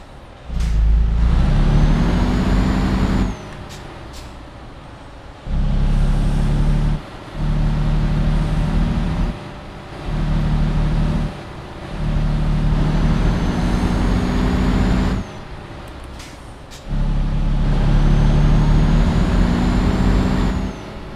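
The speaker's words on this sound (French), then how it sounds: "il y a une voiture qui arrive là. Oh, c'était la police en plus." Engine of a police car approaching in a video game, a loud vehicle drone rising and falling in repeated bursts with brief gaps, alone with no talk.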